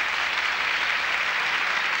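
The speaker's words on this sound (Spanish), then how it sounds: "deben de darle un gran aplauso" Audience at the Miss Venezuela 1979 pageant applauds, a steady, dense wash of clapping that carries on evenly throughout without pauses or voices.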